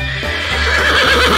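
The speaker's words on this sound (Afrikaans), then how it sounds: "'n perd rinnik." A horse on a farm gives a loud, close neigh, a wavering whinny that carries through the whole short moment on its own, with no voices.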